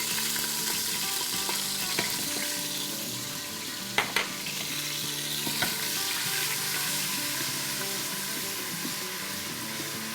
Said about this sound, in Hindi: देखिए हमारे जिंजर गार्लिक को फ्राई होते हुए भी 30-40 सेकंड हो गई है